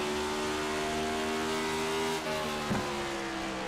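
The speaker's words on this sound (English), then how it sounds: "It revs so high." Next Gen NASCAR race car in a racing video game, running at New Hampshire, holds a high-pitched engine rev with a steady whine and a brief dip near the end, close and continuous, with no talking.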